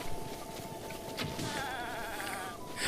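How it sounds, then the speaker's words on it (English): A goat in a video game bleats with a wavering, nasal cry, heard fairly close over a steady buzzing insect-like ambience, with a louder burst at the very end. "I'm gonna kill that goat"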